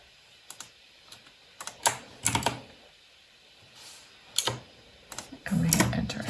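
Searching terms typed on a computer keyboard: soft, close key clicks come in short, irregular bursts separated by pauses, in an otherwise quiet room.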